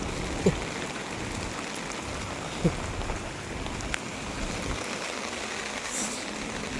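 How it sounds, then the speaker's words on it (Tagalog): Steady heavy rain patters on surfaces in a flooded spot in the UAE, a dense continuous hiss with a few sharp knocks and drips standing out, fairly quiet and without speech. "maulan ngayon dito sa UAE"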